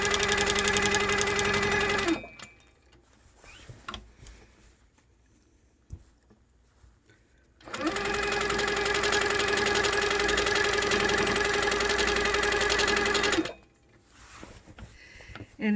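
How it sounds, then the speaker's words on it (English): Sit-down midarm quilting machine stitching in the ditch, a fast, steady mechanical whirr running for two long stretches, close up, with quiet pauses and small handling clicks between. "So I'm going to stitch in the ditch across this little section here"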